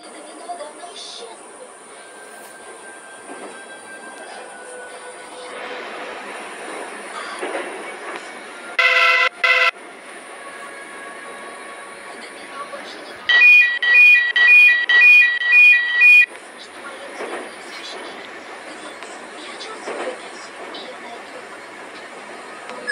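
A Moscow metro 81-765/81-766 train runs with a steady low rumble inside the car, broken by two bursts of repeated electronic chime tones, the second a longer sequence of beeps.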